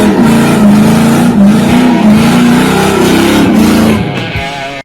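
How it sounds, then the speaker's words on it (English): Loud, sustained engine roar from a Ford Mustang Shelby GT350 during a burnout, revving hard and steady for several seconds before easing off at the end. "One last burnout."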